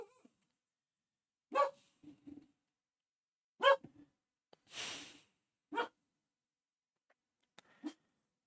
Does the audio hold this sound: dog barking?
yes